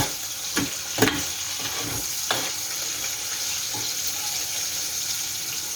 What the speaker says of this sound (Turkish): Şu şekilde patlıcanlarımızı kızartıyoruz.